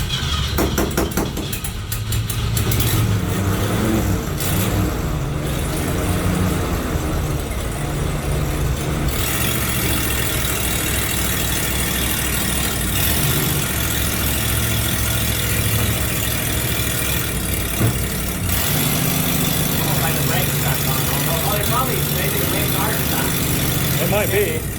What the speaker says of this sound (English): It's idling. It is. It sounds pretty good. A little bit of a sputter to it.